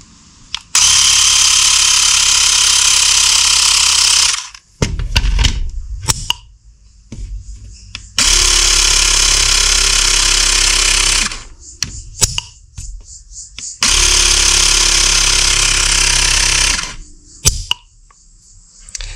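A mini air compressor screwed onto a modded Nerf Sledgefire blaster pumps up to 30 psi, running loud and close in three sustained buzzing bursts of several seconds each, with brief clicks and handling noise between them.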